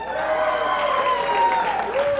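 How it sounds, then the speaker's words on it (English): An audience at a Salvation Army Christmas basket live stream claps after a pledge is read. The applause is steady and fairly loud, and a voice carries on over it. "Now, you're supposed to clap after every pledge."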